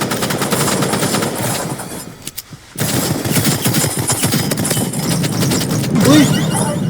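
Rapid bursts of video game gunfire crackle almost continuously, with a brief lull midway before the shooting resumes loudly; voices talk faintly underneath.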